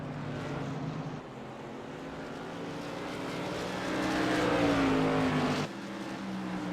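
Race car engines in the iRacing sim, SK Modified cars at the Bullring, a steady drone of close-pack engines that rises in pitch as the cars accelerate, then cuts sharply near the end, with no voices.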